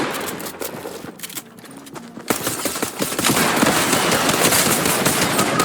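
Pistol fire in a video game comes as bursts of sharp, rapid shots: a quieter spell, then dense, loud volleys that go on to the end, with no talking.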